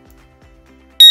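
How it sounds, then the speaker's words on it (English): An OSI 4G Wi-Fi alarm system's set button gives a sharp, loud electronic beep near the end, after a stretch of quiet with faint low handling noise. "We're going to hold it down for 2 beeps"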